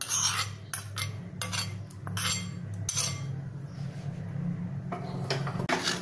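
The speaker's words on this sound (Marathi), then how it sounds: "आणि हलवून घ्यायचं नीट।" A spatula scraping and clinking in a pan while chakvat green leafy vegetables are stirred, repeated rhythmic rasping strokes over a steady low hum.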